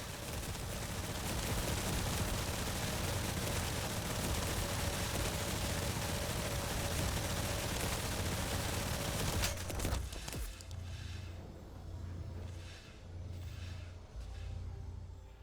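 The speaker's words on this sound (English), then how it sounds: "Once we've done that, we're just going to shoot the enemy." Dense, continuous rapid-fire bursts from the Eraser gun in The First Descendant, blasting enemies amid layered game effects for about ten seconds, then dropping to quieter rhythmic pulses and rumbles.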